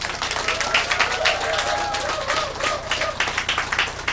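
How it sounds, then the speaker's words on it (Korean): An audience at a party founding rally claps in sustained applause, a dense even patter of many hands filling the hall, with a voice speaking over it. "박수 소리가 사람에 비해서 너무 작은 것 같아서 한 번 더 인사드리겠습니다."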